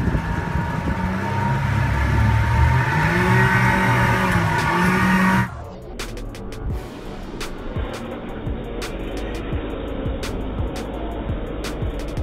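A motorboat engine roars at full throttle as it flees a hippo, loud and droning at first, then dropping abruptly to a rougher, wind-buffeted rumble with sharp knocks for the rest of the run.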